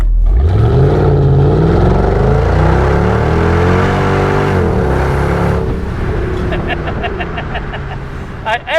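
Mercedes-Benz CLS 55 AMG V8 accelerating hard from the driver's seat, a loud engine roar climbing in pitch through the gears, then easing off as the car settles into a cruise.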